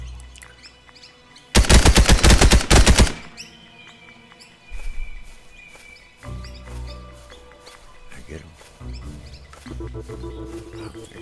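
A burst of rapid automatic gunfire erupts loud and close in a shooter video game, lasting about a second and a half, then gives way to quieter game sounds and scattered effects.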